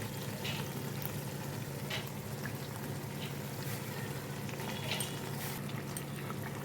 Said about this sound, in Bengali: এবার আমি এর মধ্যে দিয়ে দেবো ভেজে রাখা চিকেনগুলো